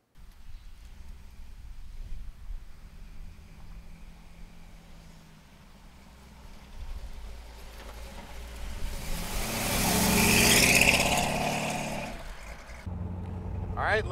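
A 1928 Ford street rod's engine idles and runs at a low, even note, then swells into a louder rush of engine and road noise near the end.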